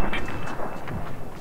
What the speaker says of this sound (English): Just start shooting.